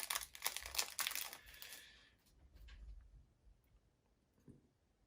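A small plastic bag holding a paper clip crinkles as it is opened during assembly of a UGears Aviator wooden mechanical model kit, a close burst of crackling that fades into faint rustles and a soft tap.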